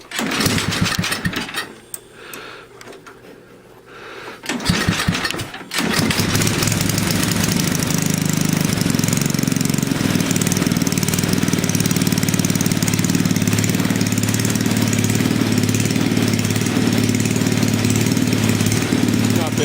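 A snow blower engine, just out of the box and running rich on too much fuel, sputters and catches after a couple of false starts, then settles into a steady, loud, close idle at its lowest throttle setting.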